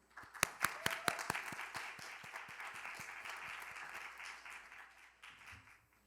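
Applause from the audience at a youth speech contest final, a dense wash of clapping that opens with a few sharp louder claps, then holds steady before fading slightly toward the end.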